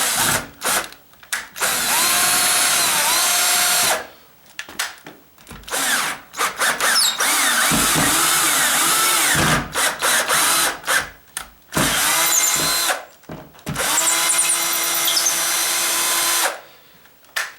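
A power drill whirs in repeated bursts of several seconds each, widening a screw hole in a stucco wall, loud and close, with short pauses and rising and falling motor pitch.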